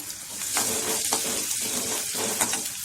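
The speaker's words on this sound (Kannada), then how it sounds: "ಶುಂಠಿ ಪೀಸು ಮತ್ತು ಬೆಳ್ಳುಳ್ಳಿ ಪೀಸು ಚೆನ್ನಾಗಿ ಫ್ರೈ ಮಾಡ್ಕೊಳ್ಳಿ" Ginger and garlic pieces sizzle steadily in hot oil for a mushroom Manchurian, a close, continuous frying hiss with a few brief stirring scrapes and no voices.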